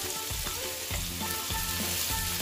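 Tomatoes, green chilies and paprika fry in a pan with a dense, continuous sizzle, broken by soft stirring pulses, close and fairly quiet.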